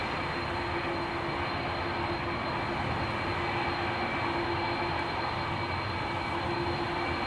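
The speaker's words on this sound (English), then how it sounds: "Turkish Airlines flight 1952. That's an A330-300. Now this one is probably a bit louder." A Turkish Airlines Airbus A330-300 departs Amsterdam Schiphol on flight 1952 to Istanbul, its engines producing a loud, steady, unbroken jet roar throughout with no voices.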